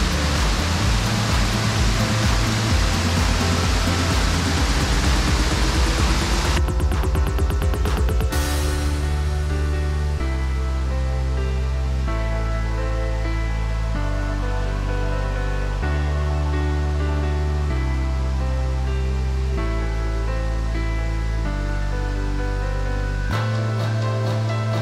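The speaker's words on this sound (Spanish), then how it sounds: "No sé si me pueden escuchar por el ruido del agua, que está un poco fuerte" Loud, steady rushing water of the Scioto River in Ohio fills the first several seconds, then gives way to music.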